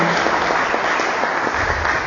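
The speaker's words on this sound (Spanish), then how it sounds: "Los invitamos a recibirlo con un muy fuerte aplauso" An audience applauds steadily, many hands clapping together in a dense, continuous patter at close range.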